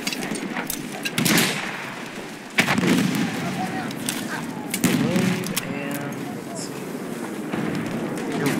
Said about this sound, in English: We'll get a kill with that grenade.